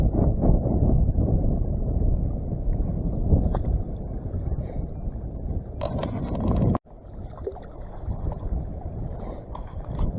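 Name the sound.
strong wind gusts on the microphone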